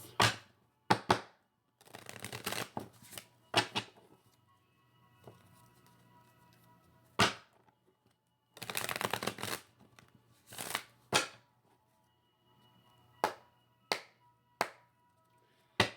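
Cards are riffled and shuffled in several quick bursts, separated by quiet pauses and a few sharp taps of the deck on a surface.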